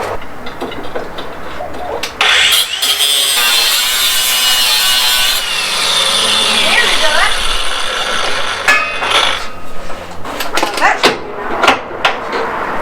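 A part for a VW Baja Bug engine gets trimmed with loud rasping, sawing and rubbing strokes. A long grinding stretch is followed by scattered knocks and clunks, and voices can be heard talking over it.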